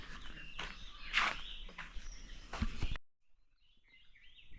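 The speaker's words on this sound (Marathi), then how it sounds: "ह्या साईडला पण पहा पक्ष्यांचा आवाज कसा येतोय" Outdoor birds call in the rainy-season countryside, with a few sharp chirps and song bursts standing out among footsteps and light rustling before the sound drops away to faint distant calls.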